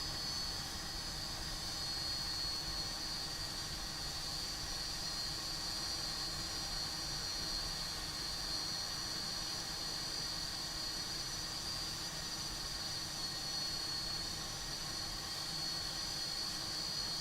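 Sud Aviation Caravelle III jet engines idle during a taxi in the X-Plane 12 flight simulator, giving a steady, unbroken roar with a high whine running through it from start to finish.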